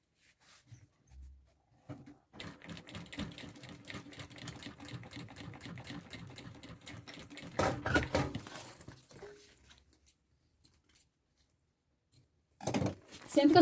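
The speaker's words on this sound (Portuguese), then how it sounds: "eu já vou costurar aqui com os tirantes no lugar" A sewing machine stitches straps onto a handmade bag in steady rapid bursts, running continuously for several seconds before slowing and stopping, with brief handling noises and a voice at the end.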